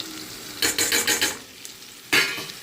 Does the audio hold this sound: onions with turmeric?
yes